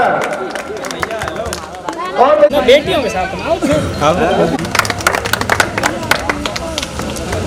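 An indoor audience applauds prize winners at a school closing and prize distribution ceremony, with sustained clapping and crowd chatter filling the room as a voice speaks over the noise.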